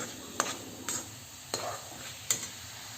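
A coconut ladoo mixture is stirred in a pan over low heat, with four distinct scraping strokes spaced about half a second apart over a faint, quiet background.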